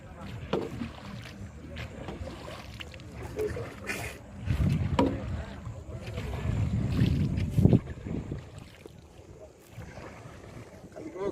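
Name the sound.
rowing a wooden country boat on water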